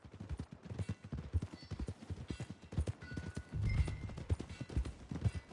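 A horse clip-clops along at a steady walking pace in Red Dead Redemption 2, its hooves thudding clearly with a brief louder stretch partway through.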